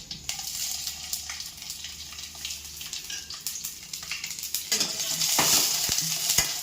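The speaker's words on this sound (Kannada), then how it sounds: "ಉಳ್ಳಾಗಡ್ಡಿ ಟೊಮೆಟೊ ಮೆಣಸಿನಕಾಯಿ ಇದಿಷ್ಟನ್ನ ಹುರ್ಕೋಬೇಕು ಸ್ವಲ್ಪ ಎಣ್ಣೆ ಹಾಕ್ಬಿಟ್ಟು" Onion, tomato and green chili frying in a little oil for masala rice, with a steady close sizzle broken by scraping stirs and clatter that grows louder and busier toward the end.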